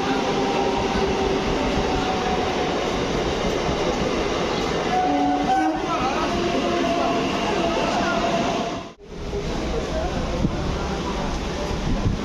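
A train pulling into a station platform on a Sunday, with a steady loud rumble and rolling rail noise throughout, a brief dip near the end, and metallic squeals as it slows.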